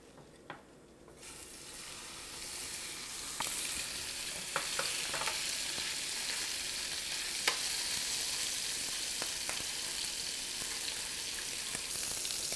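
Beef dropped into hot olive oil in a pan, bursting into a loud, continuous sizzle with scattered pops and spatters that carries on steadily.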